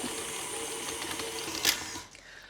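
A stand mixer kneads naan dough with a steady mechanical whir and faint rhythmic knocking, quiet and close, with a brief sharper clack near the end and no talking.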